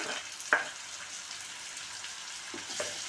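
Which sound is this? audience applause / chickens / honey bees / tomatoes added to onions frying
tomatoes added to onions frying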